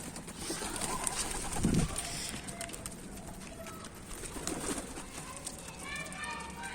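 Pigeon-like coos sound amid outdoor noise and muffled voices, with faint chirps near the end.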